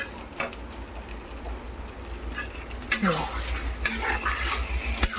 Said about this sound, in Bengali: এরপরে আমি এইভাবে নাড়াচাড়া দেবো দু চার মিনিট